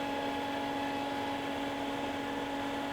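Steady, continuous whine of a grinder shaping the handle of a full tang BBQ knife after glue-up, a constant humming drone with no breaks and no talking.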